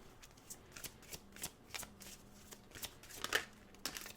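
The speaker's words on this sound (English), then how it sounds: "I will be shuffling here on camera" Tarot cards are shuffled by hand at close range in a string of quick, soft riffling bursts and taps with short gaps between them. A faint voice is barely audible underneath.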